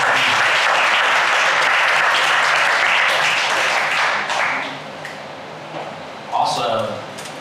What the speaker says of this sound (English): can we give Evan another round of applause